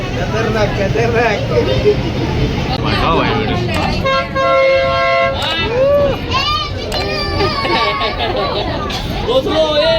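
A vehicle horn gives one long blast amid a noisy crowd, with many voices chattering throughout.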